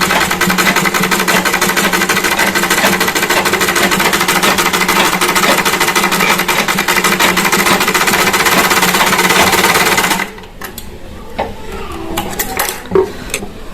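A sewing machine stitches a baby girl's kurti, running loud and steady with a fast, even mechanical chatter for about ten seconds, then stops abruptly, leaving quieter handling clicks and fabric movement.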